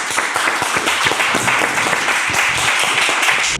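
A live audience claps for the final startup pitch of the night, a dense, steady burst of applause holding for a few seconds before cutting off abruptly.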